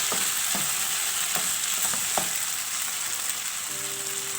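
Paneer, potato and cauliflower roast sizzles steadily in a pan with butter, with a few soft scraping stirs early on over a continuous bright frying hiss, close and alone.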